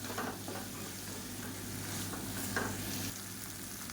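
A spoon stirs raw banana pieces through a sizzling masala gravy, producing a steady soft sizzle with faint scraping strokes throughout, no talking.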